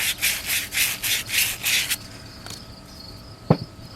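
Sandpaper rubbed by hand on a short leftover pipe piece for a rink rake, six quick rhythmic rasping strokes up close, then quiet with a couple of small knocks.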